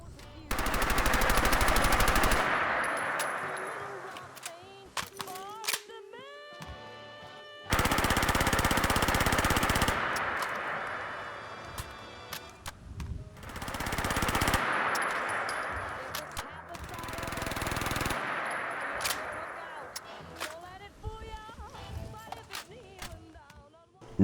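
Vanilla SMG firing in Fallout 4, loud bursts of rapid automatic gunfire in several separate volleys with ringing metallic tails and brief gaps between them.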